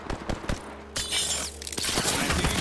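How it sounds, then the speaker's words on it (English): Close-range gunfire in Apex Legends, with sharp bursts of shots in a fast rhythm and steady rattling fire through the second half. The firing is loud and sounds alone, with no talk over it. "Enemy rather close. Opening fire."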